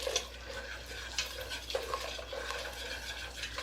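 A flour roux with pepper is stirred in a pot for a beefy macaroni and cheese bake, soft scraping and light taps of the spoon over a low, quiet sizzle, close and without talk.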